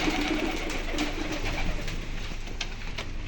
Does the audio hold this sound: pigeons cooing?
yes